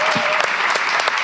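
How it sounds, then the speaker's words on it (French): A French talk audience on bipolar disorder claps briefly, a close burst of mixed hands with a faint voice underneath. "Est-ce qu'on peut applaudir"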